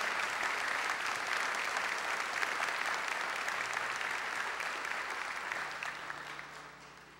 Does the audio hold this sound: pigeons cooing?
no